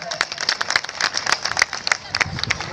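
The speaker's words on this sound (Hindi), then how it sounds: "उनका एक बार तो जोरदार तालियों से स्वागत करें" Audience at a community mass wedding ceremony gives a guest a hearty welcome, a crowd clapping in quick, irregular bursts at moderate distance, the claps sharp and crackly with faint voices underneath.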